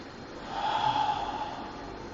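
A single slow, deep breath during a guided morning meditation rises to a soft airy peak and then eases off. It is fairly quiet and alone, with no talking over it.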